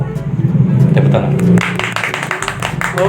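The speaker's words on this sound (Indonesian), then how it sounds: "Tepuk tangan." Applause from a live audience, short and dense clapping bursts rising under and between a speaker's voice, loud and close.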